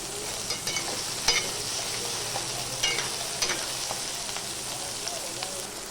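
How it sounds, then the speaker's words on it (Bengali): Diced potatoes stirred into lightly fried onions in a pan, a steady close sizzle punctuated by repeated spatula scrapes and taps. "এই যে আলুগুলো আমি দিয়েছি দিয়ে আবার একটু নাড়বো"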